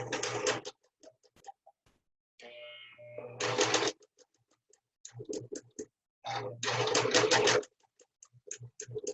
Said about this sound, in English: I'm trying to just keep it as flat as I can as I'm sewing that top stitch